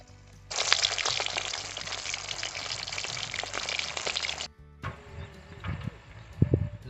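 Pomfret fish frying in hot oil gives a loud, dense sizzle for several seconds, which cuts off abruptly and is followed by quieter bubbling and a few close clinks of a utensil in the pan.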